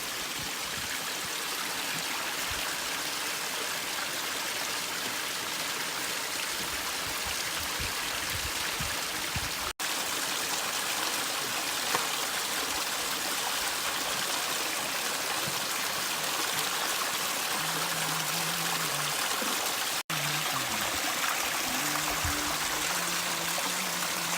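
A fresh creek flows steadily along the Ouachita Trail beside a bridge, a continuous close rush and trickle of water that holds even throughout.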